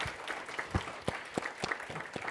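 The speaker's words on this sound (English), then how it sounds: "give her a round of applause." A small conference audience at a youth panel discussion claps for a panelist, with scattered, uneven individual claps standing out sharply over a soft background of clapping, fairly quiet overall.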